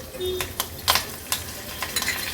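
Mustard seeds, cumin, asafoetida and curry leaves hit hot oil for tempering, a light continuous sizzle with sharp crackling pops and a few spoon clinks on the pan, close and clear.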